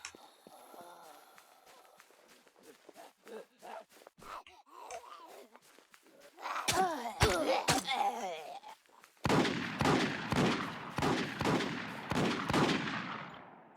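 Video game gunfire cracks in scattered single shots, then builds into dense, louder bursts of rapid shooting, mixed with footsteps and groans under players talking.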